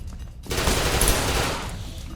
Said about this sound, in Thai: ยิงให้หมดยิงหมด